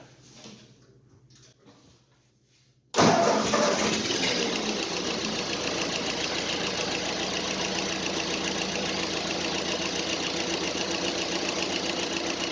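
A Ford 8N tractor engine with a freshly repaired exhaust cranks and catches abruptly, then settles into a loud, steady, slightly knocking idle close by, after a few seconds of quiet shop sounds.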